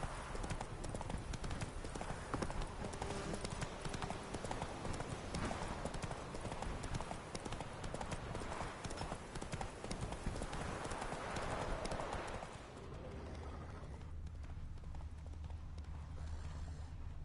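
Roach, a horse in The Witcher 3, trots along with a constant rapid clip-clop of hooves and jingling tack under a busy outdoor game soundscape, then the hoofbeats stop and a quieter low ambience remains.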